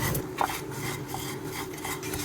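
Sesame seeds being mixed into thick sugar syrup in a pot, close rhythmic scraping and clinking of a spoon against metal, sticky and fairly quiet.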